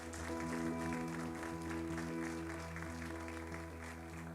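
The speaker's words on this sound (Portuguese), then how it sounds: "Quem pode aplaudir a Jesus" A church congregation applauds during a teaching service, a soft, distant patter of clapping over a sustained tonal musical backdrop.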